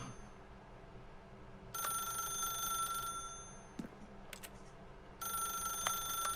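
A telephone rings in the video game The Stanley Parable: shrill electronic bursts start and stop against a low steady hum, repeating at regular intervals at moderate volume.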